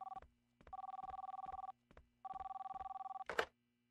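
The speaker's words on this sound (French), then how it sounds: "Téléphone." Telephone in the video game The Long Reach ringing in two long electronic bursts, each preceded by short blips, then a brief harsh noise at the end; no talk.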